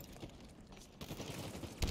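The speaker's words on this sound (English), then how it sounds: "Alright, my teammate is shooting me." Gunfire from a teammate during a capture-the-flag match in a video game: a steady rattle of rapid shots runs throughout, growing louder and heavier with a strong burst near the end.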